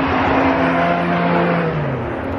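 A Porsche race car roars past close by at Oulton Park, its engine note sliding downward as it moves away.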